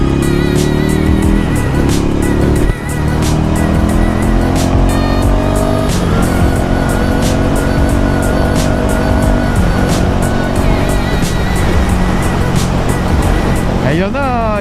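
A Ducati Scrambler 800 motorcycle ridden along countryside roads, its engine loud and close as it pulls steadily, rising in pitch through each gear, then dropping at each shift, with a quick rev near the end.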